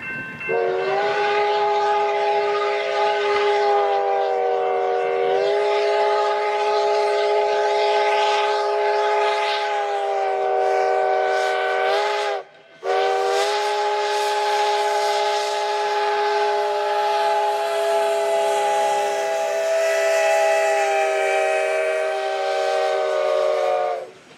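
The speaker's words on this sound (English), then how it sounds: "the train approaches the crossing at Lynon Road" A Virginia & Truckee steam locomotive whistle sounds in long, loud, sustained blasts with a brief break midway, over the low rumble of the passing train as it approaches a road crossing.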